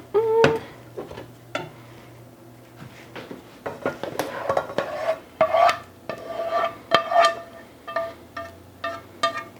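Pasta in pumpkin Alfredo sauce scraped and moved into a bigger bowl, with close rasping scrapes, clinks and knocks of a utensil against the container in uneven bursts.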